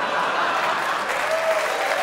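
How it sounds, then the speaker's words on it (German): Dense, steady audience applause in a packed hall during a Mainz carnival (Fastnacht) comedy show, a continuous wash of clapping with no talk over it. "Applaus"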